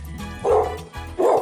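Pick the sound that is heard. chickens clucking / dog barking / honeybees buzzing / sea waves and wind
dog barking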